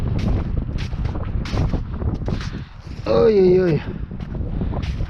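Gusty wind buffets the open air by a taiga lake in spring, rumbling loudly and unevenly throughout, while a man briefly exclaims partway through.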